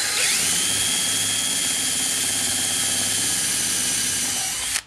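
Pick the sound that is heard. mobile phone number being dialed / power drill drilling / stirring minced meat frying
power drill drilling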